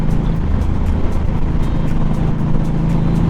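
Indian Scout motorcycle engine running while riding, a loud, steady low rumble mixed with wind rush and no break, heard close from the rider's position.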